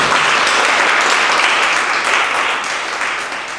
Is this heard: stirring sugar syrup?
no